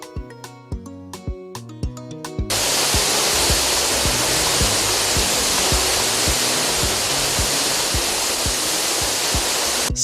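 A waterfall's steady, dense roar of rushing water fills the scene at full loudness, entering after a short stretch of rhythmic plucked music that keeps thumping faintly underneath.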